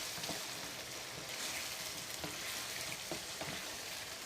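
Chicken white karahi with fresh cream fries in a pan, a steady close hiss of sizzling oil with a few faint stirring clicks and no voices.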